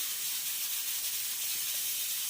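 A pressure cooker holding two potatoes boils on the stove, letting out a loud, steady, unbroken hiss of steam with no voices.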